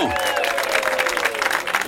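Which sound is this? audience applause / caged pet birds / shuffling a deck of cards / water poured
audience applause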